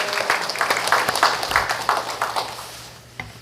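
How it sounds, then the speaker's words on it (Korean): Church congregation clapping for the choir after a hymn, a full, steady round of applause from many hands that gradually thins and fades toward the end. "오늘 찬양대로 섬겨주신 우리 찬양대 위해서 우리 박수 한번 해드릴까요?"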